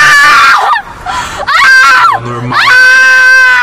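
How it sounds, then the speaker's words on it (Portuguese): A loud, wavering scream like a howl rising from inside a tomb, an audio drama effect, rises and falls in several drawn-out sliding cries with a low eerie tone underneath. "um uivo, poderia ter vindo diretamente das profundezas"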